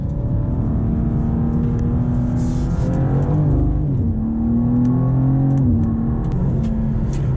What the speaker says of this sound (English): Wow, this drives really well. This car is fast.